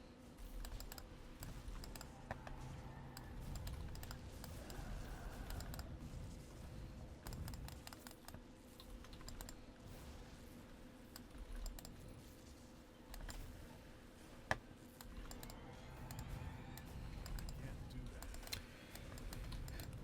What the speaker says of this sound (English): So yeah, I am clicking quite heavily for this.